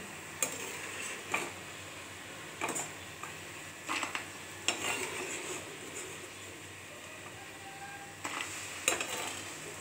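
Fried nimki being lifted from a pan of oil, with a quiet bubbling fry underneath and scattered sharp metal clicks and scrapes of the utensil against the pan.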